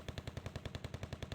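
Automatic gunfire in a video game rattles in a rapid, steady stream of evenly spaced shots, about a dozen in just over a second, fairly muffled and low in level.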